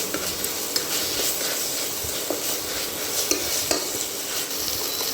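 Mint and coriander leaves sizzle in a hot pan while being stirred, with a constant crackling hiss and occasional scrapes and taps of a utensil.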